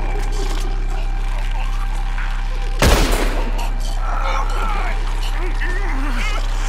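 A single loud gunshot burst rings out in Red Dead Redemption 2 as someone fires at hanging ropes, a sharp crack with a brief rumbling tail over a steady droning game background, with voices talking nearby.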